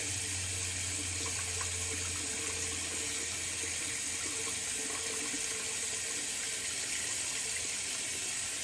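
Water runs steadily from a bathroom tap during a wet shave with Shannon's Soaps Dark Roast, a constant close hiss of flow that fills the whole stretch with no voice over it.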